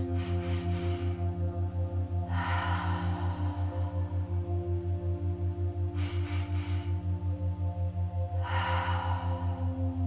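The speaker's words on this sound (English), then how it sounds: "fill with air as you breathe in, and decrease as you get rid of the air as you breathe out" Slow deep breaths in and out during a kids' yoga lesson, four soft airy breaths spaced evenly over a steady low electrical hum.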